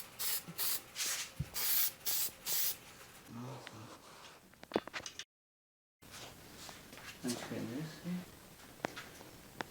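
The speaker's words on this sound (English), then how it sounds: "I'll put everything back together after I give this pipe a coat of high heat paint" Short aerosol bursts of high heat paint hiss onto a motorcycle exhaust pipe on a Suzuki DR650, several quick sprays close by in a rhythmic run, followed by quieter handling sounds and talk in the background.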